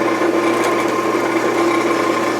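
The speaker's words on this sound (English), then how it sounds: "we're going to start drilling holes on the drill press right in that area" A drill press drilling holes in a clamped workpiece runs with a steady, loud mechanical whir and hum, unchanging throughout with no talking.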